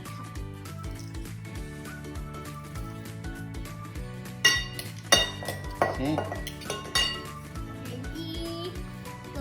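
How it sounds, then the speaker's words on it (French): Garlic cloves squeezed through a garlic press into a saucepan in a home kitchen, with clinks and knocks of metal against the pan standing out over steady low background hum and brief talk. "on va presser les 3 gousses d'ail dans la casserole"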